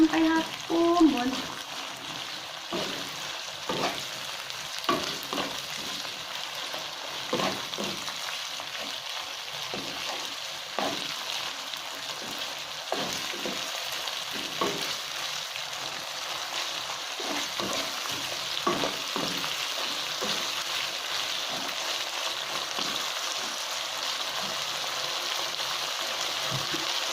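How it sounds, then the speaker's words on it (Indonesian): Spice paste for jengkol balado sizzles and fries in a pan, a continuous crackling hiss broken by regular scraping stirs, all through the clip. "Kita tumis bumbunya sampai harum"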